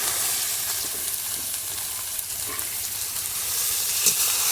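Spice paste of chilli powder and ground coriander frying in oil in a pan, a steady, close, loud hiss and sizzle that holds throughout with no talk.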